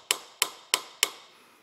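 Four sharp metallic hammer strikes on a brass taper pin land at a steady, even pace, each ringing briefly before fading, close and loud with no talking.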